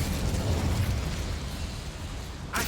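A fiery blast from the Incendio spell cast in the video game Hogwarts Legacy, a loud broadband rumbling burst lasting a couple of seconds, with a fresh sharp burst at the very end.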